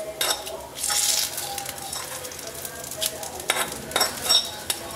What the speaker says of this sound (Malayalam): നമുക്കിത് എരിശ്ശേരിയിലോട്ട് താളിക്കാം വറുത്തെടുത്ത തേങ്ങ